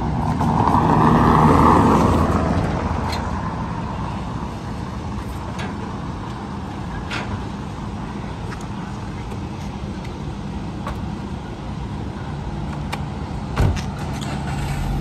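A Volkswagen Polo MK4 petrol engine starts with a louder surge, then settles into a steady, close idle that runs on evenly, with a few faint clicks.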